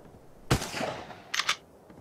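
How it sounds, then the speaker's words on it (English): A pump shotgun fired at a wall in the video game Ark: Survival Evolved, one sharp loud blast followed by a short echoing tail, then a quick double mechanical pump rack near the end. "I'm going to stand right here on this platform right here and shoot at the wall."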